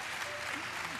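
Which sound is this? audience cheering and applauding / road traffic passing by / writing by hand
audience cheering and applauding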